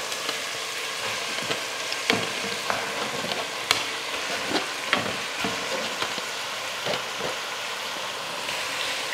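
Country chicken added to a hot pan with sautéed ginger garlic paste gives a continuous close frying sizzle, broken by scattered crackles and light stirring taps.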